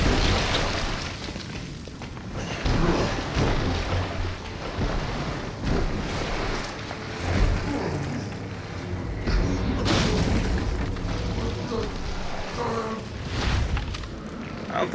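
Grenade blasts in the Resident Evil 7 game land as heavy, rumbling booms, several in a row with echoing low thuds over ongoing noise.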